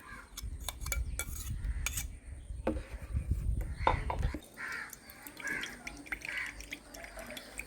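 Ground onion mixed with water is strained into a bowl, giving trickling and dripping liquid along with scattered clinks and taps of utensils against the dish, close and moderately loud.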